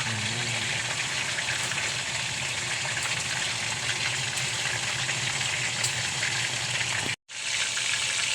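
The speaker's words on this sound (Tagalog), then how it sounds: "Piniprito natin itong chicken." Chicken steak frying in a pan, a steady broadband sizzle that runs continuously at fairly close range and cuts out abruptly near the end before resuming.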